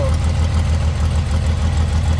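A Dodge Challenger engine idles while warming up, a loud, steady, low rumbling throb with a slight knocking pulse, running continuously without voices.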